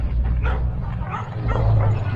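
A dog barks several times in quick succession, close and fairly loud, with short gaps between the yelping barks over a low background rumble.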